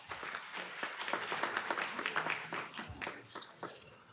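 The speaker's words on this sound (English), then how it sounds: "give yourselves a round of applause" A forum audience claps for themselves at the close of the event, fairly faint, uneven clapping with distinct individual claps standing out and a few voices mixed in.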